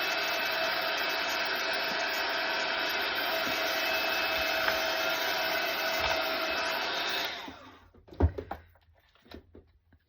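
A heat tool blows a steady, loud whooshing hum over stamping foam for several seconds, then switches off, leaving a few faint knocks and handling sounds.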